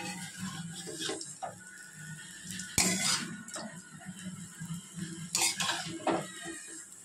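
Grated chicken is tossed and mixed into egg chicken chow mein in a pan, with a metal utensil scraping and clanking against the pan in irregular strokes and two sharp, loud clatters standing out.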